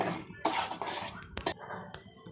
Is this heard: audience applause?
no